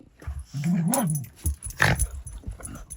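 Dogs at play, one giving a long whining growl followed by short grumbles and yips, close and fairly loud with no talk over it.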